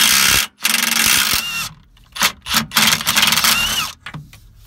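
A Hercules mid-torque impact wrench works loose a rear differential bolt on a 9.5-inch diff in bursts of loud, rapid rattling hammering, broken by short pauses, close up with no talking.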